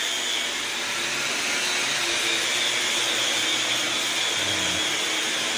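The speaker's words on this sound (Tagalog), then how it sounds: "Gamit ko yung ano ba yung tawag dito? Sanding machine natin." Sanding machine smoothing putty on a ceiling during interior finishing work, a loud, steady broadband whir that runs without pause and close to the listener, no speech.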